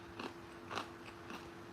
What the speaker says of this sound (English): I was just going to ask you about your chewing.